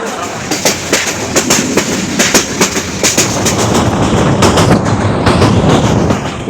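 A train rolls slowly along the rails, its wheels knocking over the joints in a loud, close, steady clickety-clack rhythm with no voices.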